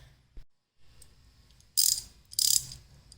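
A ratchet loosens bolts on a Jeep TJ during a rock slider install, giving two short bursts of rapid clicking close by, separated by quiet stretches.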